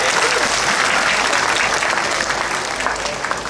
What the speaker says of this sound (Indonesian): Tepuk tangan untuk Blitar semuanya.